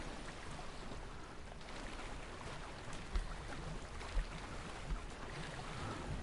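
Bubbling underwater sounds in a video game where a boat went down, a continuous soft wash of watery noise with a few faint pops, heard alone without talk.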